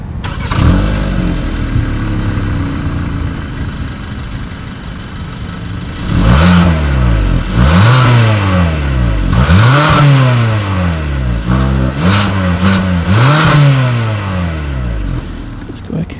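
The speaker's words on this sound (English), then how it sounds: "Here is that exhaust clip." A 2020 Hyundai Santa Fe is recorded at its exhaust outlet with a chrome tip. The engine starts with a low rumble, settles into idle, then gives five sharp revs spaced a second or two apart before dropping back.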